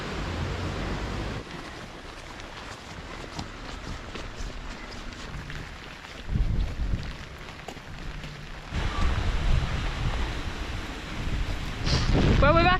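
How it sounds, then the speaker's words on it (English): Rain and gusting wind batter the microphone on Hadrian's Wall Path in Cumbria, a steady loud wash of noise with stronger gusts rising toward the end. "we've entered Cumbria and the rain's rejoined us"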